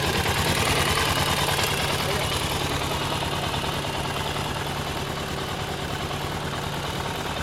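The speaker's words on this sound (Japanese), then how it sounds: "おお、単発の音聞くな。" A single-cylinder Honda CB400SS NC41 cafe racer motorcycle engine idles nearby with a steady low thumping pulse that runs throughout the clip.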